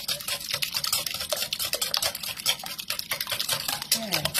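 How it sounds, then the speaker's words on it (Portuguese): Eggs being beaten in a bowl for Portuguese salt cod fritters (pataniscas de bacalhau), a steady rapid clatter of whisking or stirring that runs continuously throughout at moderate loudness. "vamos bater os ovos."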